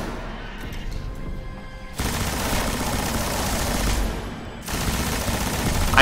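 Sustained gunfire during a Destiny boss fight, a dense continuous barrage that steps up sharply in loudness after the opening seconds and stays loud and close throughout, with a brief dip before resuming.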